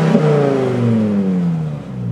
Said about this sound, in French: on vous met le son de la Volvo 5 cylindres Atmo